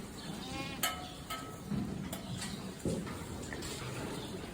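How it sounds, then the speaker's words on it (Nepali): Goats on a Spanish goat farm bleat a few times at moderate distance over a steady background hum of barn noise, with occasional clanks. "यो चाहिँ धम्माधम ब्याउँदै गरेको बाख्रा हो।"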